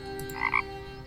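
A frog croaks twice in quick succession in the video game The Temple of No, a short, clear, close call over a faint background hum.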